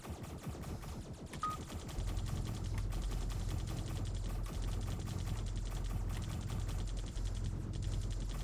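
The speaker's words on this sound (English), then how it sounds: "Yes, I like this turret much more." A turret fires rapid, continuous machine-gun bursts in the game Centauri Sector, a dense rattling stream over a deep steady engine hum, loud and sustained for several seconds.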